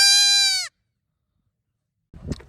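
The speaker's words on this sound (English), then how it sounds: "Here we are with our little goats." A single goat bleats loudly and close by with a sustained, wavering cry lasting under a second, followed by silence and then a brief burst of rustling movement. The goats are young and penned in a group of about nine.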